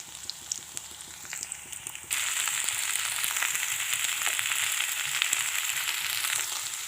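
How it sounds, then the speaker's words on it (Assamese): Vegetables, cauliflower among them, frying in a pan with turmeric and salt, giving a steady hiss that jumps to a louder, denser sizzle partway through and holds, with faint scraping taps early on and no talk. "এয়া চব্জিখিনি অলপ সিজিছে আৰু হালধি নিমখ দি দিলোঁ।"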